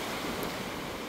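Steady soft wash of a light sea breeze and gentle surf on a calm, nearly empty autumn beach at Shamora near Vladivostok, a continuous even hiss with no distinct gusts or voices.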